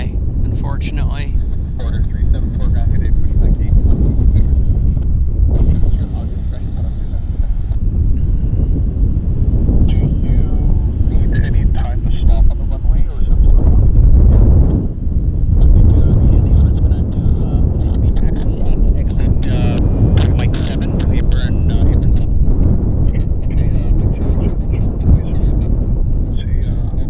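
A jet airliner runs its engines up for a test at Vancouver Airport, a loud, sustained roar with wind buffeting the microphone and someone talking over it throughout.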